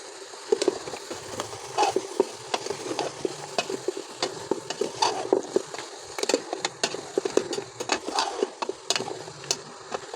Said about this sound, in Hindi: तब तक पायों को में चम्मच चलाते हैं और मिक्स करते हैं